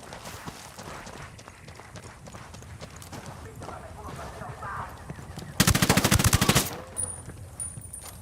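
Gunfire in the video game Ghost Recon Wildlands: a loud burst of rapid automatic fire lasting about a second, rising out of quieter scattered shots and background combat noise, with people talking.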